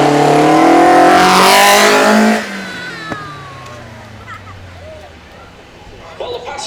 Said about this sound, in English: That pure induction noise